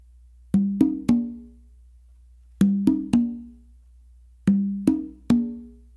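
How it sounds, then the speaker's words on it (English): Guaguanco tumbao on congas with two open tones on the drum to the non-dominant side: a three-stroke figure of ringing, resonant hits repeated three times with clear pauses between, close and alone. "So it's gonna be an open and then an open on the drum to your non-dominant side"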